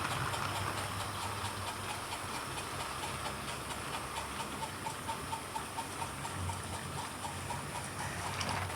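A Hornby/Triang Class B12 model locomotive runs with a continuous, fairly faint mechanical whirr and hiss, steady throughout, with no talking.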